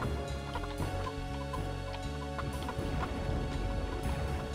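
Chickens cluck repeatedly in the video game Heretic: Shadow of the Serpent Riders, over a steady, dense electronic background with rhythmic ticking, the clucks mid-level and continuous throughout.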